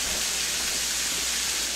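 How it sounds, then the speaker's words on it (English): Meat browns in a hot pan for chilli dogs, giving off a steady, dense sizzling hiss that stays even and close throughout. "And as you can hear it, it's starting to sizzle right now."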